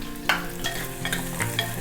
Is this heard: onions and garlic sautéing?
yes